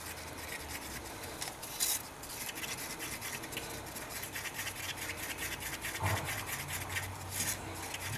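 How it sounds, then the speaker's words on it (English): Polyester resin is stirred in a wax-free paper cup, making a continuous close scraping and rubbing against the cup's sides and bottom, with a few brief louder scrapes. "Give this one a good stir. Make sure you scrape the sides real good."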